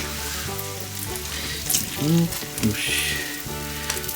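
Eggplant pieces fry in hot oil for tempura in a home kitchen, giving a steady crackling sizzle with a few louder bubbling bursts. A voice speaks briefly over it.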